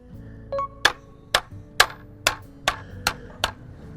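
A wooden mallet knocks bamboo fence poles with its side while a traditional four-square bamboo garden fence is repaired; seven sharp, hollow knocks come about half a second apart, close and fairly loud, with no talk.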